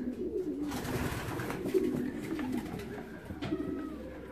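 Racing pigeons at the loft after the 309 km Olsztyn race coo in close, low, rolling phrases that repeat over a quiet background, with a few light clicks and rustles.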